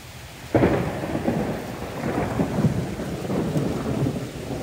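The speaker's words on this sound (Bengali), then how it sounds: "বেশ জোরে জোরে বিজলি চমকাচ্ছে।" A sudden sharp thunderclap cracks during a morning rain shower, then rolls into a long low rumble over the steady hiss of rainfall.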